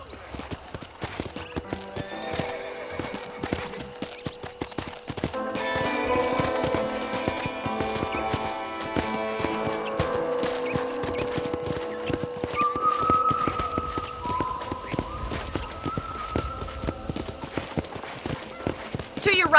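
Horse hooves clip-clop steadily through a Western ranch town in Red Dead Redemption, running under a continuous musical score and ambient game sound, with an occasional whinny and a voice talking over the ride.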